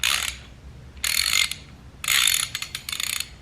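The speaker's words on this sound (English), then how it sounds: "This is a ratchet." A ratchet wrench clicks in three bursts of rapid ratcheting, each a dense run of sharp clicks, the last one broken into choppier spurts; close and clear.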